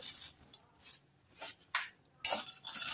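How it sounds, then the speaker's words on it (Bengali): Sweet fish-bait ingredients are stirred in a metal pot, giving short bursts of bright scraping and clinking separated by quiet gaps, close and with no voices. "তো এই একাঙ্গিটাকে একটু জাস্ট নেড়ে চেড়ে নিতে হবে।"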